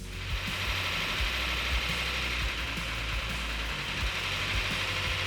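Car engine idling steadily up close, with a faint rapid lifter tick running through the low rumble.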